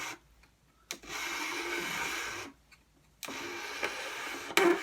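A PET plastic bottle is pulled steadily through a sharp blade on a homemade filament cutter, giving a continuous scraping rasp in two sustained stretches separated by brief pauses, close and moderately loud.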